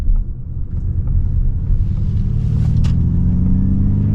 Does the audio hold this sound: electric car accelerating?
yes